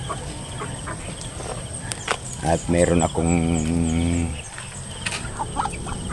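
Five hens cluck and call in drawn-out, rhythmic bursts nearby on a provincial farm in the Philippines, with someone talking briefly and faint insects in the background.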